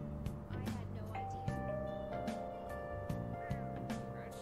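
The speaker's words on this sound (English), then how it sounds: "Even after ringing the doorbell, it doesn't look like anyone will answer the door." A doorbell chime in the video game Persona 5 rings at a house's front door, with bright ringing tones sounding over steady background game music.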